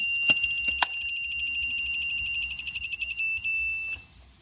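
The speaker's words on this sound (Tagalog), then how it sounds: "Umilaw yung fault niya. Ayun, nagbi-beeping." A portable solar generator's shrill electronic fault alarm beeps in a rapid, continuous pulsing pattern for several seconds, with a few clicks at the start, then stops.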